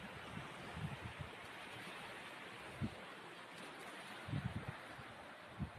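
Sea surf washing onto a pebbly beach with boulders, a steady broad wash of water and wind with a few soft thumps, continuous and moderately distant, no voices.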